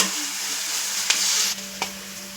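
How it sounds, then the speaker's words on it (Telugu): Ginger garlic paste fries for biryani in a hot pan with a steady, bright sizzle, broken by a couple of quick stirring scrapes. "అల్లం వెల్లుల్లిపాయ పేస్ట్ వేసింది ఇప్పుడు పచ్చిమిరపకాయలు వేసుకున్నాము"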